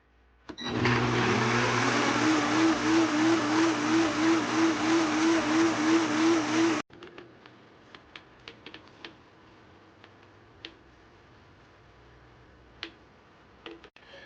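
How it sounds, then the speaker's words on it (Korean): A blender whirs loudly for about six seconds, finely grinding anchovy sauce with soju, mirin and cider, its motor pulsing slightly, then cuts off abruptly, followed by scattered light clicks and taps. "미림, 사이다 이렇게 넣고 곱게 갈아주세요."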